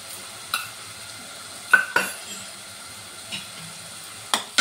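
Spatula scrapes and clinks in a pan of drumstick curry with turmeric and chili powder, a few sharp scattered strokes over a faint steady background, with no voices.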